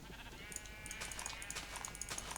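Sheep bleat in the Minecraft modpack FTB Monster, several short blocky game bleats spread over a couple of seconds, repeating at a steady pace over a faint steady hum with no talk.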